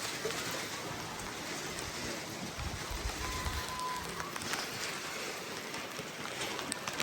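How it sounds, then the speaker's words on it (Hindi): Steady rain patters and hisses on surfaces all around, a dense continuous wash of drops that stays even throughout. "बारिश आ चुकी है"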